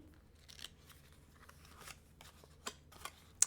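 A deck of tarot cards shuffled by hand, giving a string of soft, quiet riffling and flicking bursts at irregular intervals with no voices.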